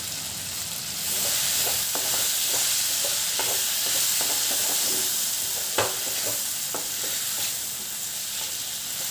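Ridge gourd pieces fry uncovered in an open pan with turmeric and chilli powder, giving a loud, continuous sizzle broken by repeated spatula scrapes and taps, with no voices.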